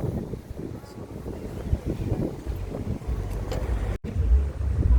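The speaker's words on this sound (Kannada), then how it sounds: "ಒಳ್ಳೆ ಗಾಳಿ ಬರ್ತಿದೆ" Strong wind blows across a hilltop in Munnar, buffeting the microphone with uneven low rumbles and gusts that rise and fall, briefly cutting out before another hard gust.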